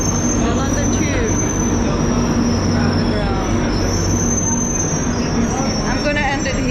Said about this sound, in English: Look, the London Tube.